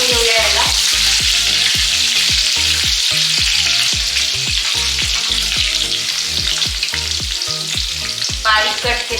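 Finely chopped green chillies fry loudly in a pan, a dense close sizzle with repeated scraping and tapping strokes as they are stirred.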